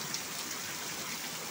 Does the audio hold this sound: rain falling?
yes